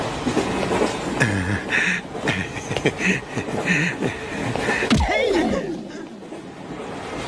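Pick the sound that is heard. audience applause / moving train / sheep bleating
moving train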